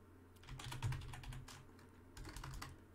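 Keys clatter on a computer keyboard as a command is typed, a quiet, close run of quick clicks in two bursts with a short pause between them.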